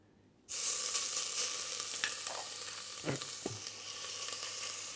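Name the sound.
curry paste frying in oil for beef stew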